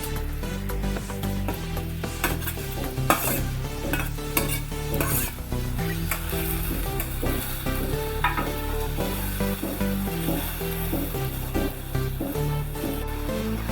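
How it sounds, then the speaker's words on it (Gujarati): Fenugreek leaves hit hot oil in a pan and sizzle steadily and loudly, with intermittent stirring clatter running throughout. "તેલ ગરમ થાય એટલે આપણે એમાં ભાજી એડ કરીશું"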